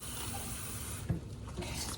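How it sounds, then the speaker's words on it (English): Water streams steadily from a tap into a plastic bag being filled for a homemade ice pack, a constant splashing wash with a brief bump partway through. "So you're just gonna fill it with water."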